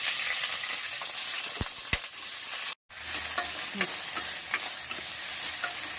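Cut okra sautés in groundnut oil in a kadai, with a steady sizzle, a few sharp ladle knocks and ongoing stirring scrapes, briefly cut to silence mid-way, with no voices.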